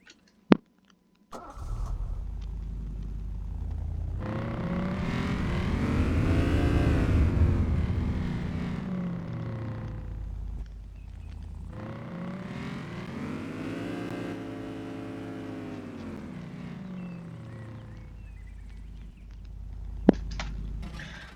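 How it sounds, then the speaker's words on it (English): Police car engine in the video game Arma 3 starting, then revving up and down in two long swells, loud and alone with no talk. "But let's hear the vehicle."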